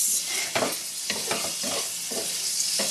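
Tofu being stirred in a frying pan just after sauce goes in, a steady close sizzle broken by several scraping strokes of a utensil against the pan.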